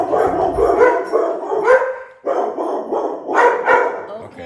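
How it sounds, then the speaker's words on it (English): A dog barks repeatedly somewhere in a residential neighborhood, loud and close, in a run of barks broken by a short pause midway. "A dog barked in the neighborhood."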